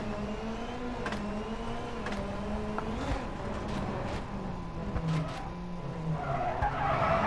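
Ford Fiesta WRC rally car on a tarmac stage in the WRC 9 game, engine revving up and down through gear changes with tire skids and squeals, loud and continuous.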